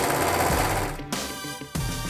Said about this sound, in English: just do a straight stitch all the way down.